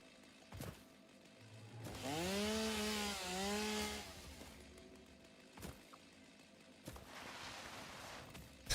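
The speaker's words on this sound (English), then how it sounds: "Sliding with a chainsaw in hand." Chainsaw in the video game Satisfactory revving in a rising, wavering whine for about two seconds as it cuts through trees, set against quiet ambient noise and a few sharp clicks, with no speech.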